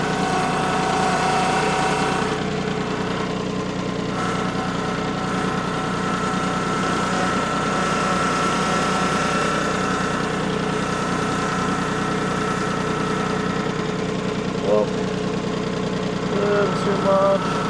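A tractor engine idles steadily and loudly throughout, a continuous low mechanical hum with a slight knocking vibration and no talk.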